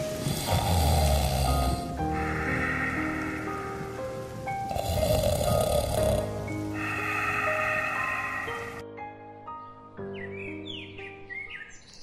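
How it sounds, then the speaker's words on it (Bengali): A man's snoring sound effect in a Bengali audio drama, repeated slow snores over steady background music with faint chirping tones, set during a night thunderstorm. "রতনবাবু নাক ডাকতে শুরু করেছে"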